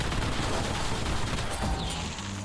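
Napalm Burst ignition explosions in a zombies video game, fired from an automatic rocket launcher: dense, continuous crackling blasts and rumbling bursts packed tightly together, loud and close, with no speech.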